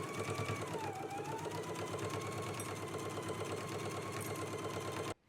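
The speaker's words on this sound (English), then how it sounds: "let's go ahead and stitch using a 5/8 of an inch seam allowance" Sewing machine stitching a 5/8-inch seam, a fast, even mechanical whir with a steady rhythmic patter, running continuously for about five seconds before stopping abruptly.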